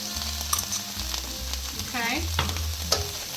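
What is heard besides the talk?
Thai green curry paste sizzling in pan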